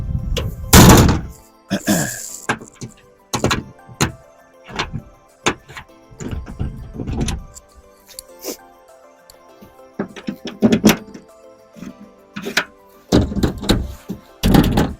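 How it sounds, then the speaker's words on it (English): The compartment door on a truck checked during a CDL pre-trip inspection closes with a heavy thunk and latches, followed by a long series of sharp clunks, knocks and rattles at irregular intervals, loud and close against a quiet background. "Now we're going to close our compartment door."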